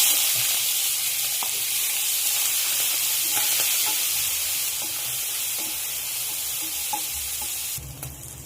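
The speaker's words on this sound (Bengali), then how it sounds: "দিয়ে আমি চিংড়ি মাছটাও ভেজে নিচ্ছি।" Prawns frying in oil in a wok, a steady close sizzle with scattered stirring clicks and scrapes throughout, no voices.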